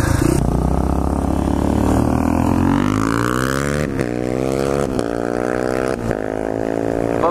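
A Honda XR pit bike engine runs close and loud, its note rising and falling through several revs in a steady motorcycle drone with no talk.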